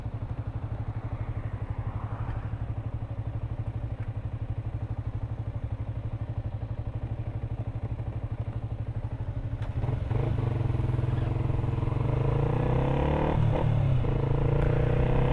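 A Mondial MT125 motorcycle engine and exhaust drone steadily while riding, with a low, even pulse that grows louder and rougher about two-thirds of the way through as the throttle opens.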